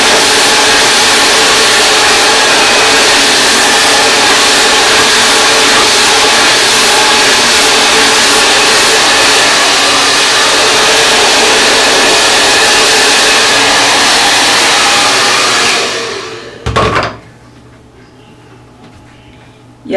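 A hair blow dryer runs loud and steady for about sixteen seconds, drying hair worked in small sections, then cuts off abruptly with a brief clunk, leaving near silence.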